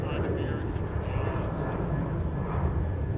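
An airliner takes off from runway 17 at Minneapolis–Saint Paul airport in calm wind, producing a steady, heavy low jet rumble throughout. Tower radio speech is audible over it.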